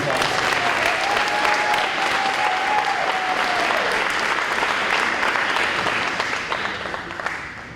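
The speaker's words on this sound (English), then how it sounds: "Let's give him a round of applause." An audience at an adult education graduation ceremony applauding a graduate, with steady, loud clapping from a large crowd that runs for several seconds before slowly tapering off. A short tonal voice-like sound carries over the clapping early on.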